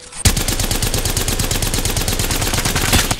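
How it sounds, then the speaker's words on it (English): Enemy gunfire in Apex Legends rattles in a rapid, evenly spaced automatic stream. It is loud and close and keeps going for about three seconds. "The enemies are shooting at me."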